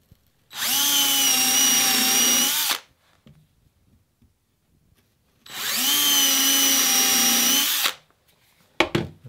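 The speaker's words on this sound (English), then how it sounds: "I'll drill my second hole." A power drill bores into wood while assembling the frames of a Bouchie dory, two loud sustained bursts of about two seconds each with a quiet pause between.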